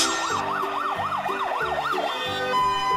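A fire truck siren yelps in fast, regular up-and-down cycles, loud and close, holding steady for about two seconds before shifting to a flatter tone at the end.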